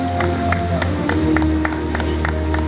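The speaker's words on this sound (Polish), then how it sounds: "Wielkie brawa! Proszę Państwa, można klaskać." An audience at a New Year meeting in Gołańcz claps steadily, with sharp hand claps standing out over a constant low hum and a murmuring crowd.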